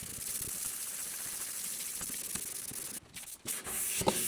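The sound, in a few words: sanding the bonnet of a Saab 96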